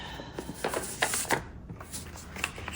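Paper sheets being folded for a handmade no-sew spring journal: a series of crisp, close rustles and sharp creasing crackles in short bursts, with no talking.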